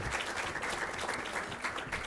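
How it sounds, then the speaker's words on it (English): Faint, steady wash of audience applause for a panelist at a media panel, a dense distant patter of many hands with no distinct individual claps. "Give Mark one more round of applause for joining us here today."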